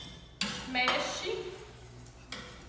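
Cream being stirred with corn starch in a bowl for a Belgian cream dessert, a utensil clinking and scraping against the bowl in a few close strokes with short pauses, no voice.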